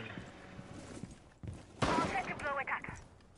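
Gunfire in the shooter game Rainbow Six, a few sharp bursts and shots landing in the second half with a busy burst near the end, mid-distance, mixed with game ambience and occasional voice chatter.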